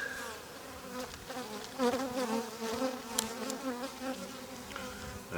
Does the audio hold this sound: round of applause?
no